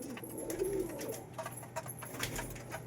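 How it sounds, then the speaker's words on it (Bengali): Pigeons feeding give a soft low coo early on, with faint scattered ticks and rustles from eating around it and no talking. "এই দেখুন খাচ্ছে পায়রা"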